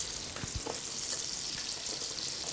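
Chicken breast frying in cooking oil in a home kitchen, a soft steady sizzle with a few faint stirring knocks, quiet and close, without speech.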